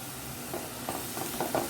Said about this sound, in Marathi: परत हे मिश्रण चांगलं 1 मिनिट परतून घ्यायचं.